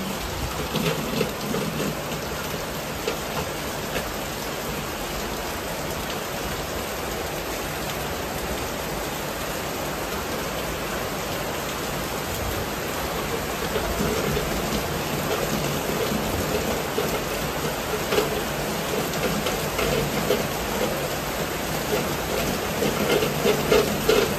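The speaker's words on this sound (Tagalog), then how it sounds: "Malakas ang ulan." Heavy rain pours steadily throughout, a dense continuous roar that swells toward the end, with low rumbles of thunder rolling underneath.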